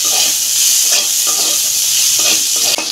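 Onions fry in a pan for a pumpkin bhorta, a loud, continuous sizzle with repeated scraping strokes of a spatula stirring through it.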